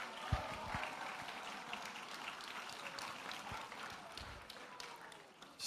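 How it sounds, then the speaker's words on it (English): Applause at a school service assembly as a departing MYP4 student named Connor comes up, a fairly quiet, steady patter of clapping with scattered louder claps and some low murmuring underneath. "big round of applause for Connor"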